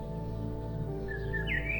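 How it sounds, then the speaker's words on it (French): Birdsong in a forest setting, a few faint high chirps and a thin rising whistle near the end, sitting quietly over a steady, soft ambient drone of layered tones. "Entends le chant des oiseaux, le vent dans les feuillages."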